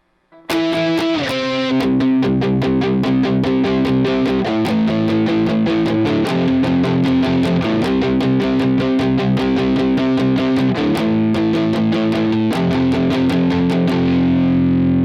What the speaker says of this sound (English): palm muting 8th notes